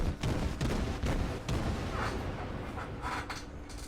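Naval guns fire HE shells in World of Warships, a string of heavy booming artillery shots, roughly one every half second at first, rolling into a sustained rumble of explosions.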